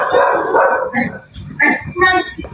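A dog barks at midnight in a quick run of sharp, yipping barks, each burst close and fairly loud, with short pauses between them.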